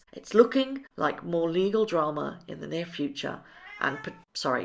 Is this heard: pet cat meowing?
yes